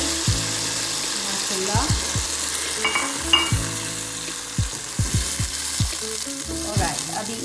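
Blended tomatoes sizzle loudly in a hot pan on the stove, with steady frying broken by repeated scraping stirs, and a voice speaks briefly over it.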